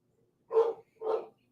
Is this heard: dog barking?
yes